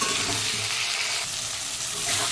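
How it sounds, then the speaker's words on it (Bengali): Salt and turmeric fry in a pan with a steady, dense sizzle that carries on unbroken and fairly loud throughout, with faint stirring movement underneath. "আগে নুন হলুদ দিয়ে একটু ভেজে নিই"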